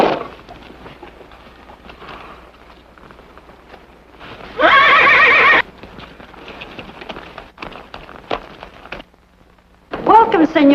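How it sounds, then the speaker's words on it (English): Horses in a 1951 western TV show give a loud, sharp neigh midway and another near the end, between soft hoof clip-clops, with quiet voices talking in the background. "Where can I stable my horses?"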